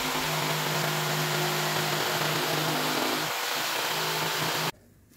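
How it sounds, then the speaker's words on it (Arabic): A floor saw cuts out a shower chair leg, giving a loud, steady, close-up buzzing roar that runs continuously before stopping abruptly near the end. "نبدأ نفرغهم باستخدام منشار الارض"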